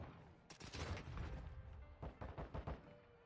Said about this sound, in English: Where is that person who's shooting back here?